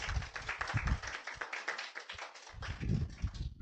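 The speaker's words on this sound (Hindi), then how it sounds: "जोरदार तालियां।" An audience claps at an indoor gathering, a dense run of hand claps that dips briefly and then resumes, fairly close and without talk.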